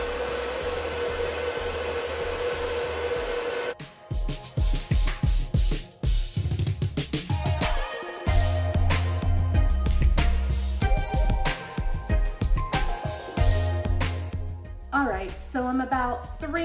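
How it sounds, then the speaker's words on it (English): A Drybar Buttercup blow dryer drying hair with a paddle brush gives a steady, close, airy roar for a few seconds, then cuts off, and music follows. "I'm gonna start with the Buttercup"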